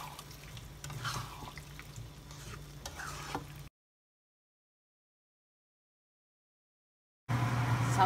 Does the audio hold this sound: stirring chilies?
yes